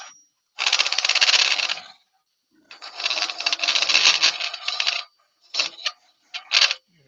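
A half-inch spindle gouge with a long grind shaves wood on a spinning lathe, turning a mushroom shape: two long rasping cuts, then several short bursts, close and fairly loud with quiet gaps between.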